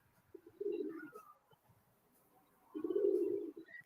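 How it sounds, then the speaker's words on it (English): A pigeon perched on a house gives two low, throaty cooing phrases, close by and fairly soft, separated by a quiet pause, with faint chirps in the background. "Maybe because me hear the dove."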